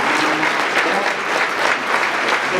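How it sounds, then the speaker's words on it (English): A roomful of guests at a fundraiser luncheon claps for classroom volunteers, a loud, thick wave of hand claps sustained evenly throughout with no one speaking. "would you please rise right now so that you can be recognized and given a round of applause?"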